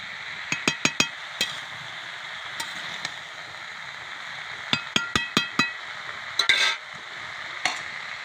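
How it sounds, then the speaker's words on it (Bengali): Curry with chopped tomato being stirred in a cooking pan, a spoon clinking and scraping against the metal in short irregular bursts over a quiet, soft sizzle. "তো চলো আমি এটা নেড়ে চেড়ে দিই।"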